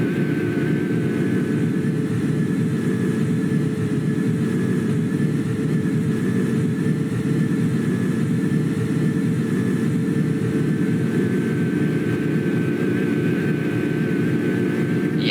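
Steady, loud jet engine drone inside the cabin of an Airbus A330-300 in Roblox Project Flight: a constant broadband roar with a low rumble and a faint whining tone, unchanging throughout with no talk.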